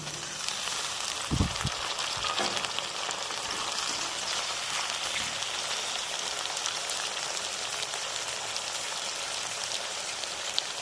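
Steady crackling sizzle of onions frying in hot oil, continuous and close, with a couple of brief low knocks near the start.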